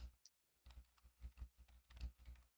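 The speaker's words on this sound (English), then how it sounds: "Sorry, I'm typing." Someone types on a computer keyboard nearby, a steady run of soft keystroke taps with a few brief pauses, quiet and without talk.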